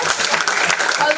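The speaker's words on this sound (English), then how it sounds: "we should have a louder applause for the media team" An audience at an academic conference valedictory session applauds the media team, a short burst of dense clapping with voices mixed in underneath.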